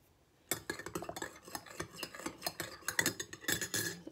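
A spoon stirring ingredients in a cup of tea, rapid metallic clinks and scrapes against the cup, close and continuous after a quiet start.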